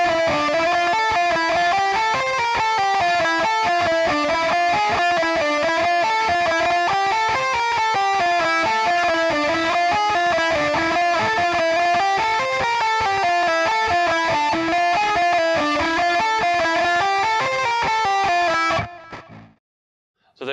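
A distorted electric guitar plays a riff, a dense, fast, repeating pattern with a triplet swing groove, loud and continuous, stopping abruptly near the end.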